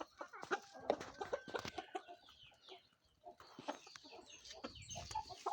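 Hens cluck and a rooster calls in short irregular bursts, fairly close, with brief pauses between the calls.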